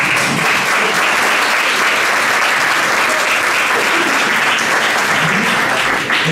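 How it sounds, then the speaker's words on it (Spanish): An audience claps continuously and loudly at a street-photography talk, a dense, even wash of applause for several seconds with no speech. "Es pueden aplaudir."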